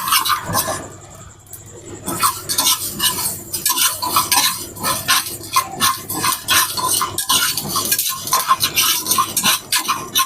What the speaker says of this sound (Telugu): మెంతులు, ధనియాలు, ఆవాలు. ఇప్పుడైతే ఫ్రై చేసుకొని